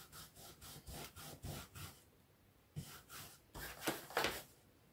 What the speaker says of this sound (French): Je vais nettoyer tout de suite mon tampon.